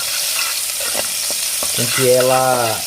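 Pieces of fat frying in a pan hiss loudly and steadily while being stirred, with a few knocks of the utensil and a brief tonal squeak near the end.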